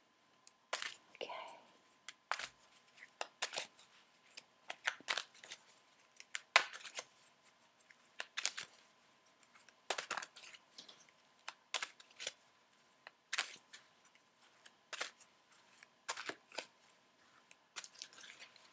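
Repeated crisp riffling and snapping of tarot cards being shuffled, in irregular bursts with brief pauses, close by.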